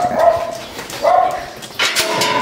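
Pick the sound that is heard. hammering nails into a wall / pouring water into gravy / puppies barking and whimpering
puppies barking and whimpering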